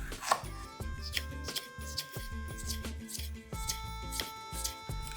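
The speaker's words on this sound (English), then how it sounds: "Slice the Scotch bonnet or habanero into thin rings." A knife slices a Scotch bonnet or habanero pepper into thin rings on a cutting board for shrimp escovitch, giving a quick series of crisp taps over steady background music.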